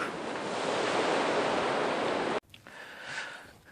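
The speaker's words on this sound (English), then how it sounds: "it's bloody windy" Loud, roaring wind buffets the microphone in a steady blast in the Lake District, then cuts abruptly to a quieter gusting rush outdoors.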